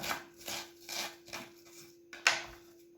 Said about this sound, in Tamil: வெங்காயத்தை வந்து வரைக்கு வந்து இந்த மாதிரி சின்ன சின்னலாம் கட் பண்ணி எடுத்துக்கொள்ளுங்க